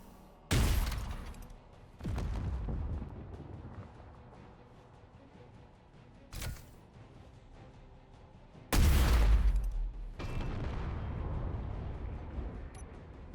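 Ship weaponry firing on an engine in Space Engineers, heard as several loud, booming blasts of gunfire separated by quieter gaps, each with a rumbling tail.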